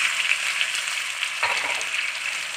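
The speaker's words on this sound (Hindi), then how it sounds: "हम इसको तकरीबन 5 से 6 मिनट के लिए फ्राई करेंगे" Chicken pieces frying in a pan with crushed ginger and garlic, a steady close sizzle with small crackles and a brief stir partway through.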